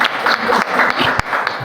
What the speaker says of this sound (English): Clap होनी चाहिए अफशान.